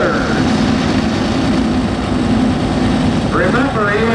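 The Bosse pulling tractor, four engines running, at a Wauseon evening pull: a heavy, continuous low engine roar at close range, steady and loud, with a rising whine near the end and a voice talking over it.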